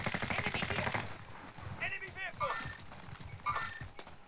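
Rapid automatic gunfire in the battle-royale game Warzone, a fast rattling burst followed by a few sharper shots, with a player talking over it.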